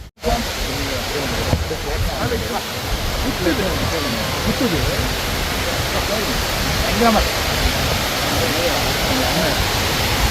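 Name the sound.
hidden waterfall on a mountain trek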